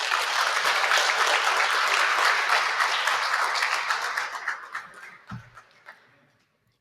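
An audience at a Tamil book launch gives a dense round of clapping that starts strong and thins out to scattered claps before fading to silence.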